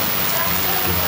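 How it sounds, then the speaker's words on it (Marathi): Steady rain falls throughout, a dense hiss of drops hitting a surface, loud and close, with no break in the sound. "आपल्याला 1 तास पावसात बसायचं थोडं अवघड वाटतंय"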